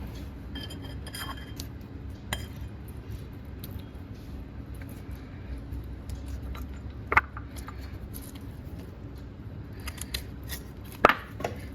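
A knife trims and cuts fruit, cutting away spoiled parts, with a few scattered sharp taps and clicks on a board over a steady, low background hum; no one speaks.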